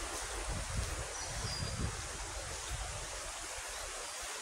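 A stream flows in a steady, broad wash of rushing water, close and continuous with no pauses.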